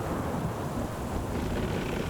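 A storm with steady rain and gusting wind, its dense low rumble holding evenly throughout at moderate loudness, with no voices.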